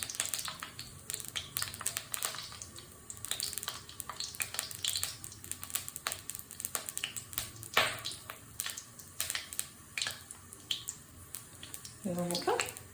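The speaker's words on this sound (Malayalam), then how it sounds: "കടുക് പൊട്ടി വരുന്നുണ്ട്." Mustard seeds crackle and pop in hot oil in a pan, with irregular sharp pops and a light sizzle that go on steadily and close by.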